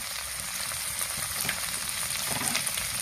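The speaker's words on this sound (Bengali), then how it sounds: "এবার টমেটোর কুচিটা এর মধ্যে দিয়ে দেব।" Chopped tomato sizzles and crackles loudly in a hot frying pan of oil, a dense continuous frying hiss with small pops and bursts close by.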